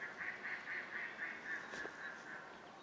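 A run of rapid, nasal duck quacks in a steady rhythm, fairly close and clear, with a soft background hiss and no talking.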